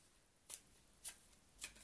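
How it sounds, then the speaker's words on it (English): A deck of tarot cards is shuffled in three quick, crisp riffling bursts about half a second apart, close and fairly quiet against a near-silent room. "So I'm going to shuffle these cards and pull one card"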